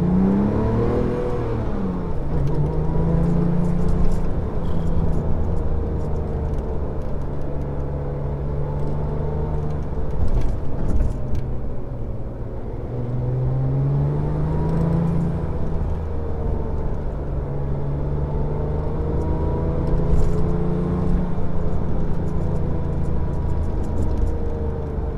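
A Porsche 997 GT2 engine drives and accelerates, rising and falling in repeated revving sweeps over a continuous road rumble, with no talk.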